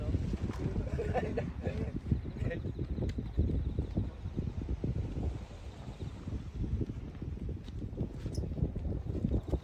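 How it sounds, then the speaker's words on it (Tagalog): Strong wind buffets the microphone in a constant low roar, with gusty rumbling throughout and a voice faintly speaking beneath it. "Ang lakas talaga hangin."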